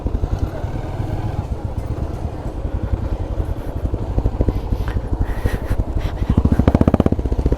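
A motorcycle engine runs close by in a crowded spot with no room to park, with a rhythmic thudding putter that grows louder and more pronounced toward the end.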